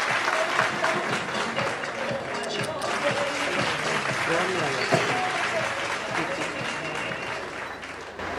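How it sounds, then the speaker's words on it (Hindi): Sustained crowd applause from an audience at a public event in Gurugram welcoming a handball association district president, steady and fairly loud, with some voices mixed in underneath. "जोरदार तालियों का स्वागत है।"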